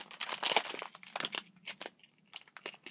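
Snack packaging from a Kimi to Idol Precure snack being opened, with soft crinkling, tearing and crunching of wrapper close by, faint and irregular, without talk.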